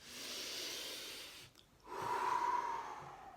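A deep breath is drawn in before drawing begins, a soft airy inhale that pauses briefly and then gives way to a longer breathy exhale, faint and close.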